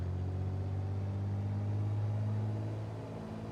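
A video-game Piper PA-28R small piston aircraft engine drones steadily with a deep, even rumble, running continuously without voices.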